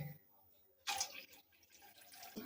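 Water poured into a cooking pot while making begun paturi, a steamed aubergine dish, with a sudden splashing pour midway that continues more softly with dripping and trickling.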